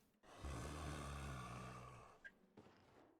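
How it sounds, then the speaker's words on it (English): A zombie in the original Resident Evil lets out a long, low, rasping groan like a deep snore, followed by a couple of short, quieter snorts and breaths. "I hear the zombie."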